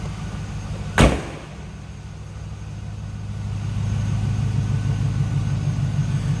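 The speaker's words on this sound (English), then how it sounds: "just a stock sound coming out of that LS1. A little bit of a rumble to it" A 1999 Pontiac Firebird Trans Am WS6 convertible's stock LS1 V8 idles with a steady low rumble, preceded by a single sharp click or thump near the start; the rumble grows slightly louder and fuller.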